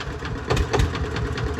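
A tractor engine runs close by with a low, throbbing rumble and a steady pulsing beat, loud and continuous throughout.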